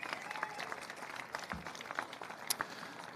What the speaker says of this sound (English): Give them a big round of applause, would you?